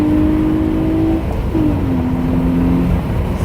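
A Hyundai Genesis Coupe with a stock engine and a resonator delete accelerates close by. Its droning exhaust note breaks briefly, as if shifting gear, then pulls on in a steady, loud tone.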